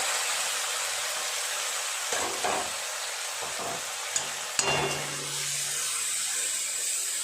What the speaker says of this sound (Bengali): ভালো করে একটু নেড়ে চেড়ে কষিয়ে নেব।